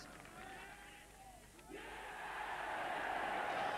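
A golf crowd at St Andrews in Scotland roars and cheers during the British Open. The sound is a distant, steady crowd noise that swells after a brief dip and keeps building.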